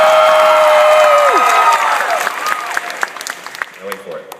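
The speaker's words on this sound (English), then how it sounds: "Now I want you to explode with applause." A convention panel audience bursts into loud applause and cheering close by, with whoops and calls on top, dying down over a few seconds.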